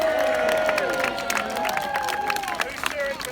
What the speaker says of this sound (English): Cheer for our plucky underdogs and the Courtenay.